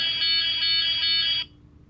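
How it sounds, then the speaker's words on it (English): A toy Porsche 911 car's built-in alarm gives a loud, shrill electronic tone that pulses briefly for about a second and a half, then cuts off abruptly, leaving near silence. "It has a built-in alarm with it."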